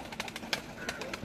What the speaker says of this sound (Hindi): ये टैडी कबूतर है।